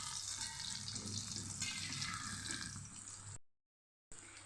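Green onion and chilli bhajiya frying in hot oil, a dense continuous bubbling hiss close by with no talk, broken by a short silent gap near the end.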